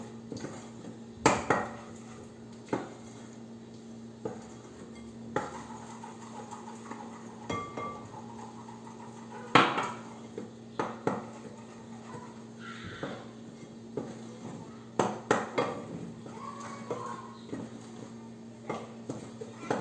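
A spoon works an elastic wheat-flour dough around a bowl in a home cooking lesson, giving irregular knocks and scrapes against the bowl over a low steady hum, with no talk.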